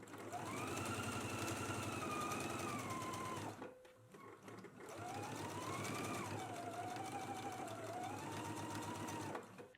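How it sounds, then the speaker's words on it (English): A sewing machine stitches a waistband with a 5/8-inch seam allowance, running in a fast steady whir close by, pausing briefly midway before starting again for a second long run. "Let's go ahead and stitch the waistband in place using a 5/8 of an inch seam allowance"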